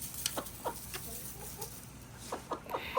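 Hens in a winter coop give scattered soft clucks and short calls over a low background hum, with no talk.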